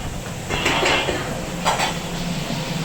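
Plates and dishes are washed by hand in a home kitchen, with scattered clinks and clatters of crockery and cutlery knocking together over a quiet background.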